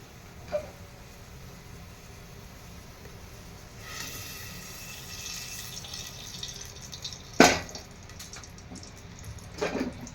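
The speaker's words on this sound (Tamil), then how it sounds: "இப்போ குக்கரில் வந்து எண்ணெயை ஊற்றிடுவோம்." Cooking oil poured into a pressure cooker sitting on a stove, a faint soft trickle with a couple of brief clinks in a quiet kitchen.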